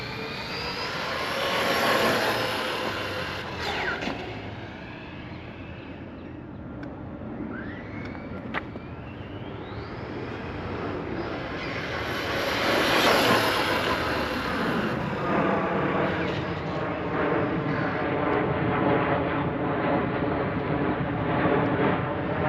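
Team Associated MT8 RC monster truck on a top speed run, its electric motor whining loudly and rising in pitch as it accelerates, then passing close with a surge before continuing at a steady high-pitched drone.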